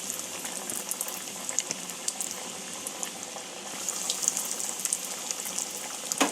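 Banana flower chops deep fry in hot oil over a medium-low gas flame, with a continuous bubbling hiss and scattered pops and crackles that grow slightly busier midway.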